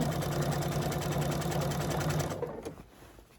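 A sewing machine stitches over bulky quilt seams, a loud, close, rapid rhythmic chatter running steadily before slowing and stopping near the end.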